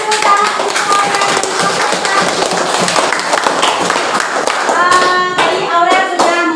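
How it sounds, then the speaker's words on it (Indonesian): Classroom applause for a student's presentation, loud dense clapping from a group of students that rises with sharper claps near the end, with faint voices underneath. "tepuk tangan untuk Aurel."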